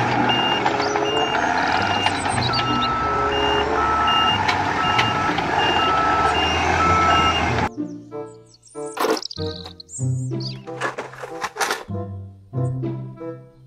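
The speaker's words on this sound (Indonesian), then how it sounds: "Mobil dump truck." Toy dump truck making a steady electronic reversing beep over a dense mechanical drone, then switching to sparse, irregular bleeps and synthetic tones, loud and close throughout.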